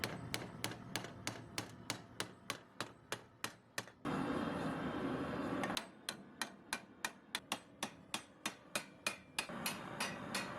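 Hammer blows on Damascus steel while rough raising a pata gauntlet sword, sharp evenly spaced ringing strikes in a fast rhythm, broken by a short burst of continuous grinding-like noise before the steady hammering resumes.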